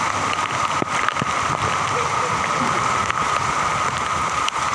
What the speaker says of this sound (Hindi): इस वक्त बहुत शदीद बारिश हो रही है